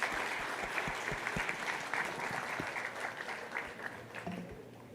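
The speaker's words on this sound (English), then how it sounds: "Let us give a warm round of applause to the entire panel," Warm audience applause for a panel at a global economic policy forum session, a full room clapping steadily throughout, slightly fading toward the end, with a few louder close claps early on.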